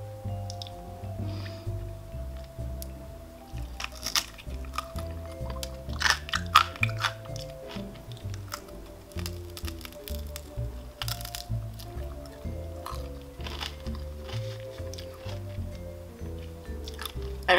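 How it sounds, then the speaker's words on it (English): Someone chewing on bones during a Filipino food mukbang, close wet squishing and crunching bites in an irregular rhythm over a soft low musical backdrop. "And now I'm chewing on bones."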